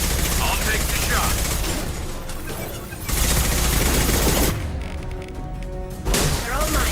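Gunfire in Mass Effect 2, loud rapid volleys of shots and crashing impacts in bursts amid battle noise and music, with voices heard between.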